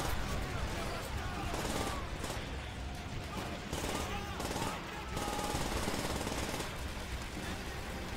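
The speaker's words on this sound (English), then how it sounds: "Bullets." Dense, continuous gunfire from the World War II shooter World at War, rapid machine-gun bursts and scattered shots blending into a steady loud barrage with overlapping game noise throughout.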